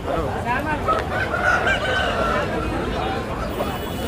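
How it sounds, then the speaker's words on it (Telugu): Hens and roosters clucking and calling at a busy country chicken market, a dense, continuous barnyard din of fowl voices with crowd chatter mixed in. "ఇక్కడ పెట్టలు ఉన్నాయి"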